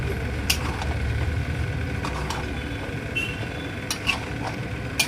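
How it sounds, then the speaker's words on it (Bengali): Chicken being sautéed with biryani masala in a pan, giving a steady low sizzle with intermittent stirring scrapes and a few light clinks of a spatula, no talking. "দিয়ে এবার এটা আবার কষবো"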